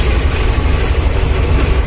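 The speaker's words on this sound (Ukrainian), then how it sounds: "хоч трошки м'якше трактор по ямках їде" A T-25 tractor hauling a load of potatoes drives over a potholed field road, producing a loud, continuous rumbling roar with rattling and clattering throughout.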